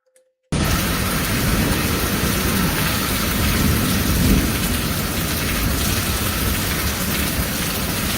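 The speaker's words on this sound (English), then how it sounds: "it was lightning and thunder and all of that" Heavy rain pours steadily during a thunderstorm, a dense, loud, continuous wash of noise that starts abruptly after a brief silence and runs unbroken with no talk.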